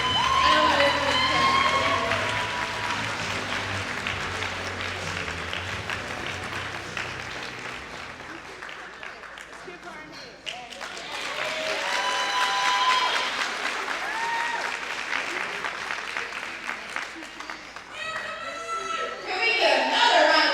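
Audience at a scholarship and awards ceremony applauds after a tribute performance, with bursts of cheering and whoops mixed into sustained clapping that dips midway and swells again, while someone speaks over it at several points.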